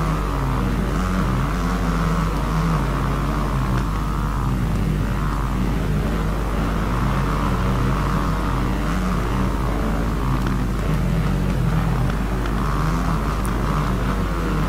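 Motocross bikes, including KTM and Yamaha machines, race in the game MXGP 2019 with a continuous, droning engine roar that holds steady at one level for the whole stretch, with no voices.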